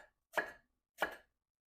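Two crisp knife chops land on a cutting board about half a second apart while vegetables are cut for salsa. Each is a close, dry thud with silence around it.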